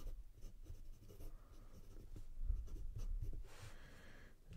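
A Parker 51 fountain pen with a medium-fine nib writes on paper, giving a soft, close scratching that stays continuous with small strokes and pauses, quiet and without speech.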